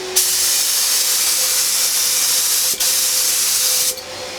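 A steady pressurized spray hiss from a Fuji Mini-Mite 4 HVLP spray gun spraying finish, close and even, with a brief break partway before it resumes and then cuts off near the end.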